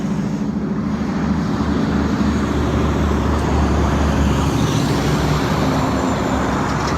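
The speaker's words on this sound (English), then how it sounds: "The traffic is pretty noisy." Steady, loud roar of heavy freeway traffic on the Southeastern Freeway, a continuous broadband wash of passing cars, buses and engines heard close by the roadside with no break.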